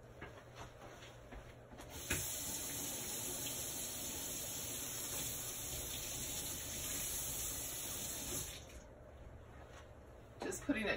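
Steady running water pours from a tap for several seconds, a continuous gushing hiss with a faint high electronic whine above it, stopping near the end.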